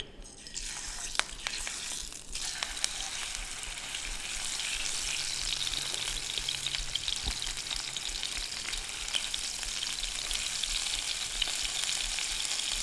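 Chicken pieces sizzle in a hot pan for a tomato-sauce dish, making a loud, continuous crackling hiss with scattered pops that runs unbroken and steady throughout, with no one talking.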